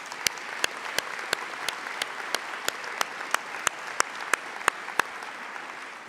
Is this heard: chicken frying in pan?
no